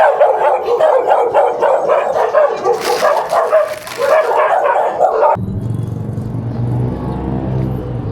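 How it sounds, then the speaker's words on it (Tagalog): Many dogs barking and yelping together in a street during a pet rabies vaccination drive in Sumacab Norte, Cabanatuan City, a dense loud chorus that stops abruptly, leaving a low idling vehicle rumble. "Ayan na, daming aso."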